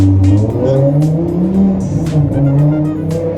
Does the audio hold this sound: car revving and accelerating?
yes